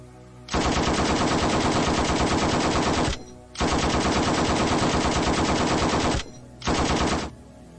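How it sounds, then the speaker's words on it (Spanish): Three long, loud bursts of machine gun fire rip through the air, the first two lasting a few seconds each and the last one shorter, with brief silences between them and no voices. "Una ráfaga de ametralladora impacta sobre el cuerpo del religioso."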